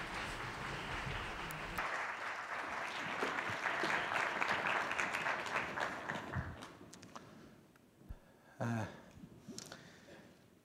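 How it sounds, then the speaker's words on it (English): An audience at a business talk applauds Chey Tae-won of SK Group: a broad wash of clapping builds and then thins out into scattered claps and a few knocks near the end, moderately distant. "please give him a big round of applause"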